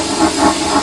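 A steam locomotive on a snowy railway lets out a steady, close hiss of steam, a continuous breathy rush with slight pulsing swells and no voices.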